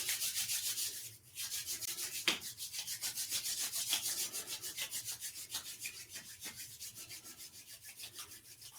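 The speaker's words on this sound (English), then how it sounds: "Let's start off rubbing our hands." Hands rub together briskly in a quiet room in a steady back-and-forth rhythm, a dry swishing friction sound repeated close up with a short pause near the start.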